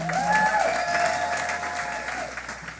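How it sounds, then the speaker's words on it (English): Audience applauding at the close of a corporate staff awards ceremony, steady dense clapping filling the room from start to finish, with tonal music or feedback lines running beneath it. "One more round of applause for everybody."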